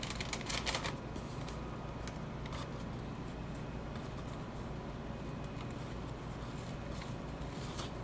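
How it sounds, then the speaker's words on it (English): Paper bag crinkling and rustling as a Halyard H600 face mask is slipped inside, a steady close crackle of handling lasting several seconds with no talking. "is to stick it into the paper bag"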